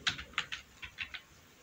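Keys tapped on a computer keyboard while JavaScript code is typed, about seven quick, close keystrokes in an uneven rhythm over a quiet background.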